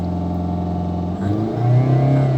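A car engine on a steep ramp during a hill-start driving lesson, idling steadily before revving up twice in quick surges, the pitch climbing each time, close and loud.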